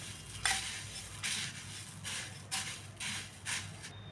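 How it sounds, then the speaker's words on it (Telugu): Puffed rice being tossed and mixed by hand with chilli, salt and spice masala in a bowl, giving soft repeated rustling crunches in bursts about once a second, close and fairly quiet. "ఇది ఇట్లా చేత్తో మొత్తం మసాలా అంతా పట్టేలాగా బాగా కలుపుకోండి"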